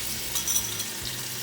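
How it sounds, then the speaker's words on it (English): Ground meat sizzles steadily in hot oil, a continuous bright crackle with a brief clink or scrape near the end. "I want to start frying our ground pork."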